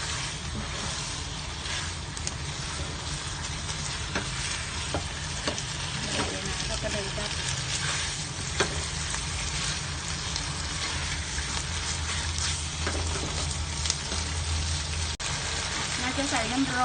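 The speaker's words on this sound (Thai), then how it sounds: "ดังนั้นใส่น้ำร้อนลงไปเลย ต้องเป็นน้ำร้อนนะคะ" Hot water is poured into a sizzling Thai spicy chicken curry with eggplant, and a steady loud frying hiss and bubbling crackle continue throughout, with someone speaking over the cooking.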